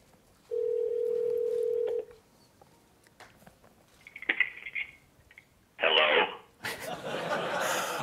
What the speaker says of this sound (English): it's gonna dial, my Mac's gonna actually make a speakerphone call through my phone